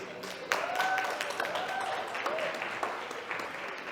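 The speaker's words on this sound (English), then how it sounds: "So clap it up for all the sponsors." At a financial empowerment summit in Buffalo, New York, the audience applauds its sponsors with steady, moderate crowd clapping. A faint whistle or cheer rises over it.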